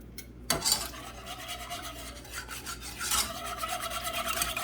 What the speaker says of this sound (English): She's just whisking away.